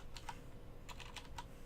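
Fingers typing on a computer keyboard, a few quiet scattered key clicks in two short bursts, close and faint with no talking.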